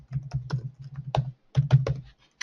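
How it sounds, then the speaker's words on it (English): Someone types an address on a computer keyboard: close, quiet clusters of key clicks in short bursts with a brief pause midway, no talk. "once you start typing in the address like this"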